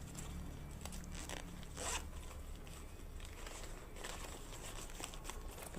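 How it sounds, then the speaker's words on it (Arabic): A zipper on a crossbody bag's compartment is pulled open in several quick ripping strokes close to the mic, with no talking over it. "في سوستة من هنا."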